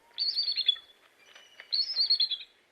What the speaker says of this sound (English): Yes, that squeaky door sound comes from the official bird of the United States of America.